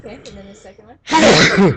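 A person speaks briefly, then a single loud, sharp sneeze bursts out close by.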